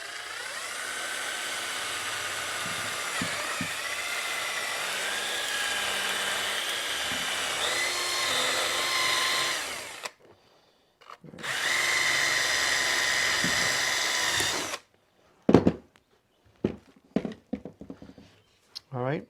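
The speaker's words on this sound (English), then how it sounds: "we're going to drill this hole out here using a unibit" A power drill with a unibit (step drill) whines steadily for about ten seconds while drilling a hole, stops, then runs again for a few seconds, followed by scattered clicks and handling noises.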